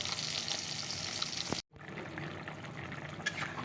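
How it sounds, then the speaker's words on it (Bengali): Fish fries in a pan in a home kitchen, giving a steady hiss and crackle of sizzling oil, close and continuous with one short break partway through. "মাছটা ভেজে নিচ্ছি"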